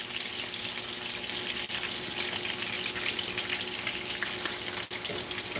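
Bacon sizzles and crackles steadily in a pan over medium heat for a country breakfast, a close, even frying hiss with no talking over it.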